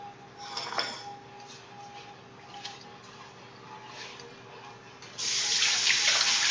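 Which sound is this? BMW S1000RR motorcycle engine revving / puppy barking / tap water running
tap water running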